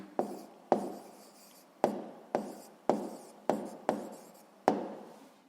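Handwriting with a pen or pencil while writing out solutions to a physics problem: eight short scratching strokes, close and quiet, each with a sharp start that fades away.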